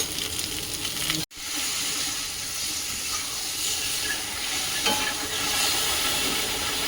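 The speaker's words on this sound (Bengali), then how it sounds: "এখানে ঝিঙেটা ভাজা হয়ে গেছে এখন তুলে নেব" Sliced ridge gourd fries in hot oil with a steady, close sizzle that briefly cuts out, then continues evenly.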